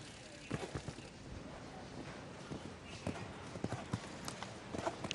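A horse's hooves thud in an irregular clip-clop during a show jumping round at the FEI World Equestrian Games, with moderately distant footfalls under a low crowd and arena murmur, and talk faintly in the background.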